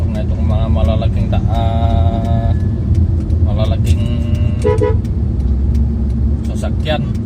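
A car horn beeps a few times amid loud, steady traffic rumble with large vehicles passing on a busy road, the honks sharp and short over the engine drone.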